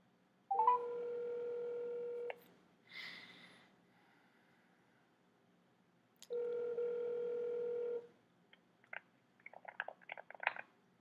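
Telephone call tones on a line: two long steady tones about two seconds each separated by a pause, followed by a quick cluster of short dialing-like beeps, fairly quiet.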